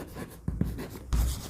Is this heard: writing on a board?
yes